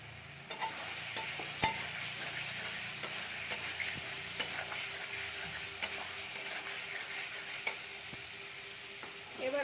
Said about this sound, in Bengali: এখন আমরা এর মধ্যে দিয়ে দেবো মাছ।